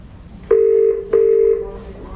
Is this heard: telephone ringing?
yes